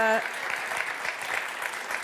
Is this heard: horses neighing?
no